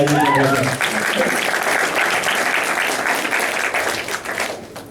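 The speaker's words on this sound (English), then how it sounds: "give him a round of applause" Applause from an audience at a sponsoring event, a broad wash of clapping that swells after a brief voice at the start and carries on steadily before tapering at the end.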